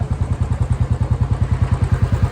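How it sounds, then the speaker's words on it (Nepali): A Royal Enfield Bullet motorcycle engine warms up at idle, giving a steady, loud thumping beat of even, close pulses without pause and no talking. "इन्जिन तताउँदै हो"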